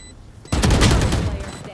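Valorant gunfire, a sudden burst of rapid automatic shots from a video game, dense and loud for over a second, with a voice faintly present.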